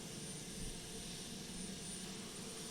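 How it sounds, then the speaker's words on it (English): Boeing 727-200 freighter engine spooling up in a flight simulator, a steady broadband jet roar with low rumble and high whine, held at an even, fairly quiet level throughout. "we have a good engine start."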